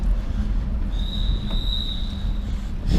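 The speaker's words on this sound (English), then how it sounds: "there's an O train, which is the new monorail system here in Ottawa" An O-Train light rail car passes in Ottawa with a steady loud rumble and a thin high wheel squeal rising midway through, close by.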